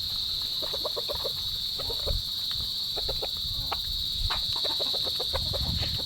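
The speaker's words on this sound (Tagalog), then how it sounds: "Ito pa po yung mga pakainin ni Tilat na manok." Chickens at a fishpond farm cluck in short repeated bursts close by, over a steady high drone of insects and crickets, with no talk.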